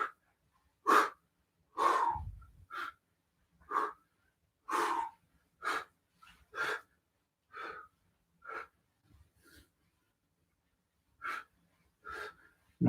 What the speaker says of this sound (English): Breathe, breathe, breathe.